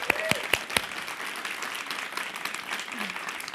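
Audience applause welcoming Broadway composer Andrew Lippa, a crowd clapping with a few sharp, close claps standing out at the start before the sound settles into softer, even applause.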